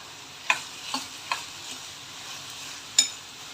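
Onion and tomato being stirred in a frying pan for spicy egg bhurji: a soft background sizzle with several distinct scraping taps of a spoon against the pan, close up and unaccompanied by speech.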